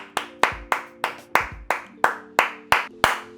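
Close, crisp hand claps, about ten single claps at a slow, even rhythm, each sharp and distinct over a faint tonal hum.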